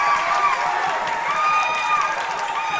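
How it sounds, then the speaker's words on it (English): Crowd noise at a varsity boys basketball game, Heartland vs Suburban, loud and steady, with whistles or squeaky tones over the roar and a commentator talking on top. "Listen to this crowd."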